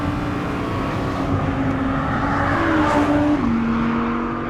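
An Audi R8 with a naturally aspirated V10 engine drones loudly and steadily nearby, its pitch holding and then dropping slightly near the end, with no voices.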